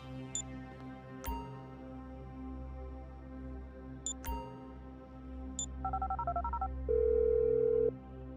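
A telephone call is dialed in GTA 5, with a few sharp clicks and beeps followed by a short run of keypad tones and then a sustained steady tone, all set against a low humming game background.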